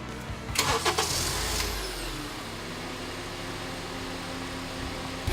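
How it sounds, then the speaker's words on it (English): A push-button car engine cranks briefly and catches, then settles into a steady, smooth idle hum that carries on to the end, close and alone. "I'm gonna press the button once, give the car a couple of seconds, and it's gonna start right up."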